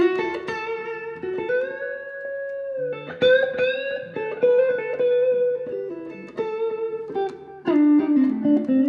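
Electric guitar through a Tube Screamer pedal with mild overdrive plays sustained notes and short melodic phrases, a warm slightly gritty tone, alone and close.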